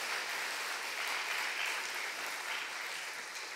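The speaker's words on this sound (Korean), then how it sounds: "아이고 박수까지 터지고." Applause from a church congregation at an evening revival service, a dense steady clapping that fills the room throughout at moderate loudness.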